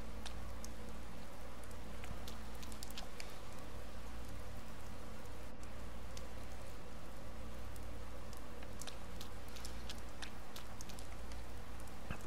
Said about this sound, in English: Since it is like a rainy day